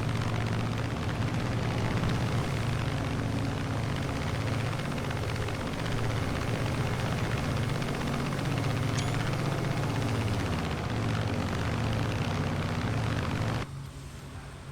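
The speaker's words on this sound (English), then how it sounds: "Two Hellcats escorting me." Two F6F Hellcat warbirds fly alongside in the X-Plane 12 flight simulator, their propeller engines making a loud, continuous droning roar that fades slightly near the end.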